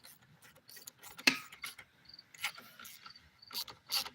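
Fasteners being tightened make a few quiet, irregular mechanical clicks and ratcheting ticks, close by and soft, with brief pauses between bursts.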